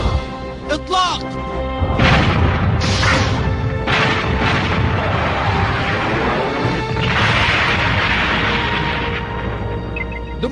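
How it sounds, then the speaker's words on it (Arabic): Cannon fire from an animated series strikes a target in a series of heavy crashing booms and impacts. The blasts arrive in several bursts over a dense rumbling bed, with brief speech-like sounds early on. "جميع المدافع نجحت في إصابته"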